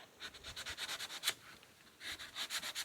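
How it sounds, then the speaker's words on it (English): Sandpaper rubbing back and forth across a stained wood surface to rough it up for glue, in quick rhythmic strokes that pause briefly before resuming, close and fairly quiet. "Sandpaper will, if nothing else, abrade the surface to give you more grip for the glue."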